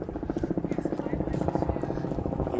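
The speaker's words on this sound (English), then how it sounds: "there's always helicopters flying over for some reason" A helicopter flies over Toronto's High Park on a winter day. Its rhythmic rotor thudding pulses steadily at a moderate distance, partly under a person's talking.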